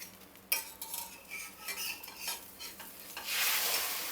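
Cheese omelette in a pan over a medium gas flame, a spatula scraping and loosening its edges with short metallic strokes, then a louder burst of sizzling as it is flipped.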